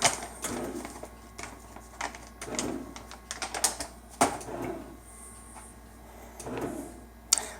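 A bread machine mixes sourdough dough, giving irregular knocks, thumps and whirring bursts close by, with a faint background hum.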